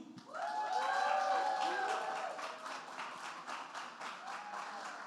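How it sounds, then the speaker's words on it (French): An audience at a culture and economy summit applauds a presenter, with a swell of clapping and a few raised voices or cheers at the start, then a thinner patter of hands that carries to the end. "Une main d'applaudissement pour Émilie."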